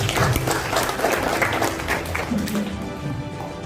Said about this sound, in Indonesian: Berikan tepuk tangan untuk Fintech